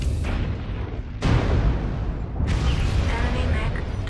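Heavy mech weapons fire in MechWarrior Online: dense, rumbling blasts with two sharp onsets marking fresh volleys over a continuous roaring battle bed.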